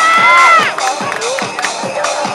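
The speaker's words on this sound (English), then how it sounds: "Give a round of applause" Rodeo crowd at a state fair arena whooping and cheering in a loud burst that fades into scattered shouts and applause, with an announcer's voice cutting in over the noise.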